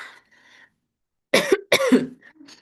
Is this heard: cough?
yes